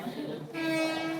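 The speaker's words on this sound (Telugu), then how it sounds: "మన ట్రైన్ అయితే వచ్చేసింది." A passenger train pulls into platform 9 at a busy railway station, its rumble joined by a sustained horn-like tone. Voices murmur faintly in the background.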